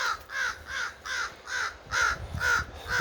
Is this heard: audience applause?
no